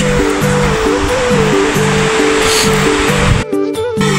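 The Suwa Khola, a mountain river on the trek from Khewang to Chyangthapu, rushes past nearby as a loud, continuous roar of flowing water, with a repeating music melody playing over it.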